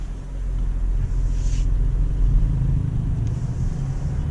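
A 2021 Geely Okavango SUV climbs a slope around Manila, giving a steady low engine hum and road rumble from inside the cabin, smooth and unbroken, with no speech.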